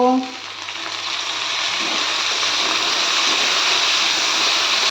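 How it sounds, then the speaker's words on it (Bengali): Chopped ginger fries in a pan with a steady, even sizzle that lasts the whole stretch after a brief voice at the start. "এই আদা কুচি দিয়ে দিলাম এক চামচ মতো আমি আদা কুচি দিয়ে দিলাম এবার এটা ভালো করে একটু ভেজে নেব"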